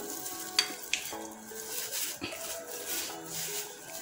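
Margarine melts and sizzles softly in a frying pan over medium heat with a faint crackling hiss, punctuated by a couple of light utensil clinks and scrapes.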